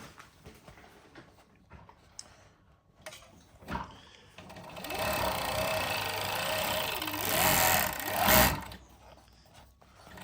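JUKI MO-6814S 4-thread industrial overlock machine stitching on a small table-top, with a quiet start of scattered clicks, then a loud steady mechanical whir in the second half that builds to a peak.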